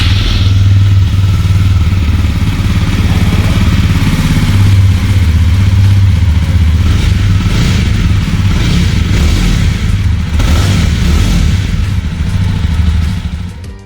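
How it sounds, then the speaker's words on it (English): A 2021 Jawa Perak BS6 motorcycle's exhaust rumbles loudly and steadily up close, a deep continuous engine note with slight revving throughout. "now let's hear the exhaust note of the vehicle"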